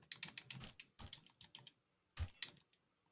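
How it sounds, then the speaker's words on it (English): Someone typing on a computer keyboard, heard as rapid bursts of clicky keystrokes in short runs separated by brief pauses, with a couple of heavier key thumps near the end. "Somebody's typing."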